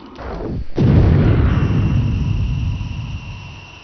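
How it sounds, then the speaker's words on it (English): An AGM-65 Maverick missile launching in the Falcon BMS flight simulator, a sudden loud whoosh and boom followed by a sustained rushing roar that slowly fades. "once you do that, you can fire off the missile"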